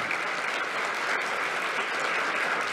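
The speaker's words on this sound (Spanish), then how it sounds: "un aplauso para ella" Audience at an academic presentation gives sustained, dense applause, an even roar of many hands clapping at steady loudness throughout.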